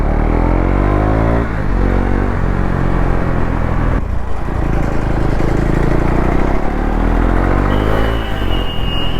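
A KTM Duke 390 BS6 motorcycle rides hard on a highway, its engine loud and close with a steady drone that rises in pitch through gear changes, with strong wind rush over it.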